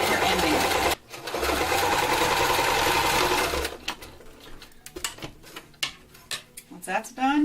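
A sewing machine zigzag-stitches a doll garment made from socks and ribbons, a fast continuous mechanical whir for a few seconds, then stops into scattered clicks and rattles as the fabric is handled, with someone speaking nearby.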